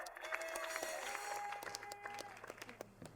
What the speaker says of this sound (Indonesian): Tepuk tangan sekali lagi untuk